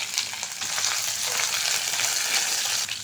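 Garlic, a sprig of curry leaves and a green chili sauté in hot oil for a tamarind bitter gourd kuzhambu, making a continuous close hiss and sizzle at an even level throughout, with no talking.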